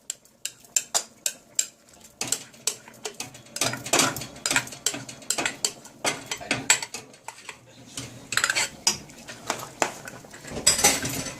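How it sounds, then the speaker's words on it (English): Spoon scraping a peas and rice stew back into a metal pot, a run of sharp, irregular clinks and scrapes coming in quick bursts, close and fairly loud, with no talk. "Scrape that all back in our pot."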